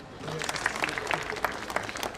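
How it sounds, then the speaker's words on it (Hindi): Brief, fairly quiet patter of clapping from the audience at an official inauguration of an amphitheater with light and sound show at Bagh-e-Bahu in Jammu, with loose, uneven claps over a short stretch. "की जोरदार तालियां बजती रहें तो अच्छा रहेगा"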